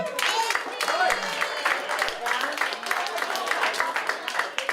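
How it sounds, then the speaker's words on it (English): Comedy show audience claps in scattered, uneven bursts across the room, moderately loud and continuous, with some crowd murmur underneath. "Clap if you're aging."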